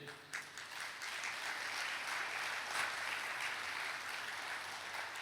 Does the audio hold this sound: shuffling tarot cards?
no